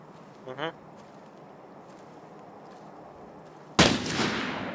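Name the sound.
gunshots in Arena Breakout video game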